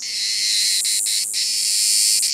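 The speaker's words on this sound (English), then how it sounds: "It's a cicada. It says here that cicadas are the loudest of all insects." Loud cicadas make a dense, steady, high buzzing drone that fills the whole stretch without a break, with a few brief pulses rising out of it.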